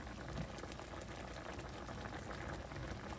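Chicken wings simmering in an orange juice sauce give a steady, dense bubbling and popping, even and close, with no voices over it.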